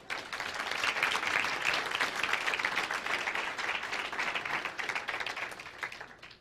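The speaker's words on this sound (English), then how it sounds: "please give our workforce a round of applause" A seminar audience gives a workforce a round of applause after the red bead experiment, with steady, fairly loud clapping from many people that holds for several seconds and then tapers off.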